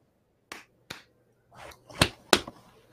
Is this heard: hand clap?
yes